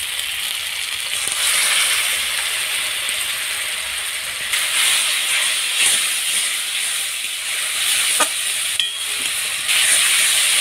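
A dissolved spice paste goes into a pan of frying onions and tomatoes, giving a loud, close, steady sizzle and hiss with occasional stirring scrapes.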